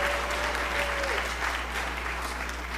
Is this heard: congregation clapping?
yes